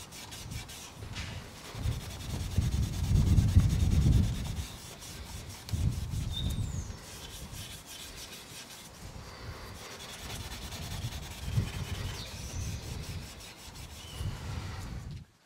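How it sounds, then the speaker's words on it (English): Wire wool scrubbing metal polish around the inside of car exhaust tips, a close rasping rub in repeated strokes that swell and fade, loudest early on and continuing in shorter bursts. "I spent a good 5 minutes or more wire wooling the inside of the tips until my fingers hurt"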